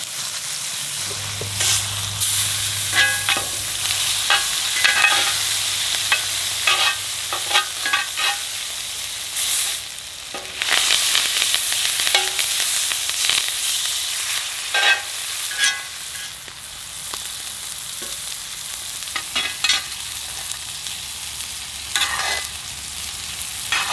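A deer tenderloin steak sizzles loudly in a skillet with butter, rosemary, thyme and fresh garlic, a dense, steady crackle punctuated by repeated spoon clinks and scrapes from basting.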